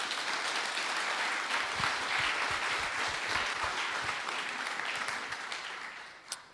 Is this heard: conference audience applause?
yes